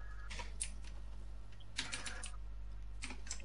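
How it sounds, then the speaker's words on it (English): Keyboard typing in the video game Fortnite, a few short bursts of quiet clicking keystrokes, faint and distant over a steady low hum, with gaps between bursts. "I just hear someone like on their keyboard."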